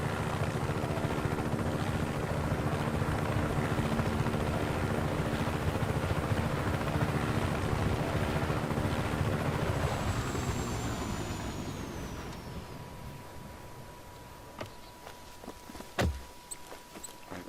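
Helicopter rotor and engine drone in Just Cause 3, loud and steady, then winding down as it lands. A whine descends, the noise fades, and a thud follows amid scattered clicks.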